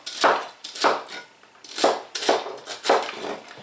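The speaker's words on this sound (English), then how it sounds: "So all we're doing is cutting vegetable and putting in the pot." A knife chops vegetables for a vegetarian soup on a cutting board, five or six loud, close, evenly spaced strokes with no talking.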